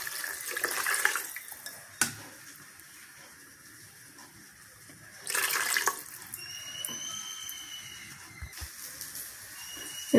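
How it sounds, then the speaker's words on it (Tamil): Water splashes into a cooking pan of sautéed ingredients in two short pours a few seconds apart, with quiet kitchen clinks and a faint high whistle between them. "இப்போ தண்ணி ஊற்றிடலாம்."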